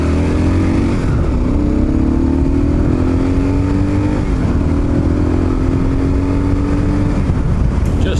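Kawasaki KLR 650 motorcycle engine running steadily while riding along Georgian Bay in spring, a loud continuous single-cylinder drone with rising and settling pitch as it accelerates through gears, close and alone with no talk.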